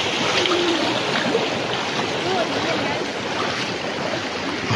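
Steady rushing of a clear river being waded across on the Tancak Tulis waterfall trail, a broad continuous water noise filling the clip with faint voices beneath it.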